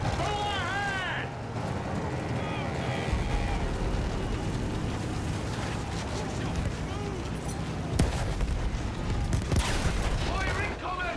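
Artillery and gunfire roll across a World War I battlefield in Battlefield 1, with a dense rumble of blasts and scattered shots running throughout, and shouting soldiers heard over it.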